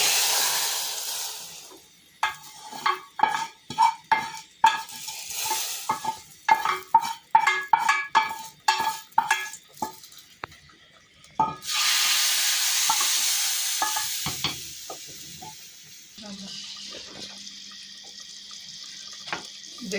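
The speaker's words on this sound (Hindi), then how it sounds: "हुण असी पाउने आ रेड मिर्च गोल और जीरा।" Tarka of red chili and cumin hitting hot oil for dal, heard as a burst of crackly sizzling after a stretch of clattering stirring, then fading to a softer hiss.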